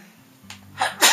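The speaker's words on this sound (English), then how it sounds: "Sneeze" A single sharp sneeze bursts out at the end after a brief quiet intake of breath, close and fairly loud.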